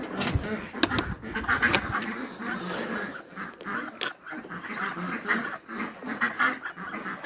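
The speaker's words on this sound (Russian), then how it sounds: "Утки на самом деле больше купаются, чем пить хотят." Ducks bathe in a bucket of water on a farm, giving loud nearby quacks with splashing and sharp flapping bursts, while a quieter background of rustling and occasional other animal sounds continues.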